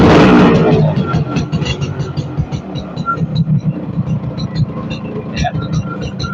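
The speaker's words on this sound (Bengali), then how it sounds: "আরএক্স গাড়ির সাউন্ডটা অনেক সুন্দর" A Yamaha RX motorcycle engine throbs nearby, loud at first then settling into an uneven, pulsing rumble, with voices talking over it.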